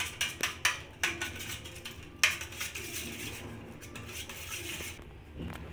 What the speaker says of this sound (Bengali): এবার আমি চিনিটা দিতে দিতে ডিমের মধ্যে আমি এটাকে নাড়িয়ে নেব।